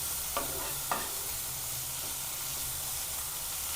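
Onion sautés in a pan with a constant, even sizzle and hiss, broken near the start by two brief scrapes of a stirring utensil.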